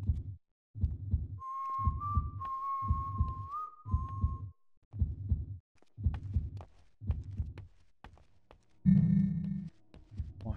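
Guards in the video game Manhunt whistle a faint wavering tune over a steady, heavy thumping pulse, the melody rising and falling briefly before a louder low throb near the end.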